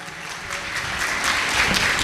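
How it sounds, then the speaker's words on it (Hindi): Steady applause from a crowd, a dense patter of many hands clapping that holds evenly throughout. "जोरदार तालियां से स्वागत।"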